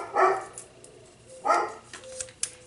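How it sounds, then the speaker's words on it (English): Pet dog barking indoors in the background while planner decorating goes on, two distinct barks followed by a softer yip or whimper, moderately loud with no talk over them. "you can hear my dog barking in the background"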